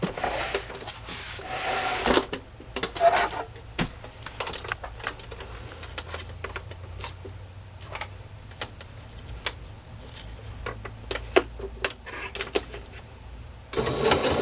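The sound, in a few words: sewing machine stitching ribbon on a placemat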